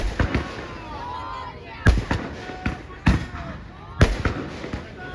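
Firecrackers burst during a Ganpati immersion procession: four loud, sharp bangs spaced about a second apart, with crackling tails and voices around them.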